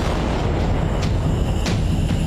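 A cartoon bomb goes off in a Telugu kids' animated episode, a loud sustained rumbling boom with sharp bursts cracking through, no voices.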